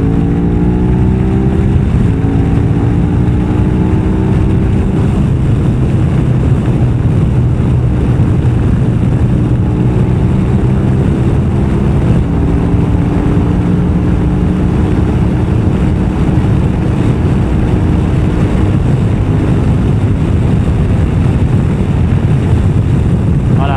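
A KTM motorcycle engine drones steadily while riding, its pitch rising and falling through gear changes, with constant wind rush throughout.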